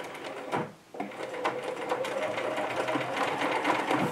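A sewing machine stitches fabric for a small scrunchie and hairband, a close rapid mechanical chatter running in short bursts with brief pauses between them.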